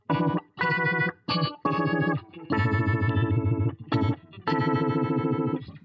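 Electric guitar chords played in short bursts through a Univibe effect on a Donner Alchemy pedal, swirling and throbbing, with a warm pulsing wobble on each sustained strum.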